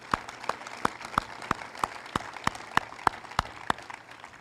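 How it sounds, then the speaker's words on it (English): Audience at a sports training center grand opening applauds with sparse, evenly spaced claps, about three per second, fairly soft against a quiet background. "That deserves a round of applause."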